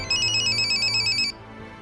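A phone ringtone sounds for an incoming call indoors, a bright repeating electronic melody of short pulsed notes lasting just over a second before it cuts off, leaving a quiet room tone.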